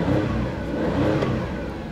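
A Suzuki Every DA62V engine, started cold with coolant not yet warmed, drones steadily up close, a dense low rumble with slight swells in pitch, no voices.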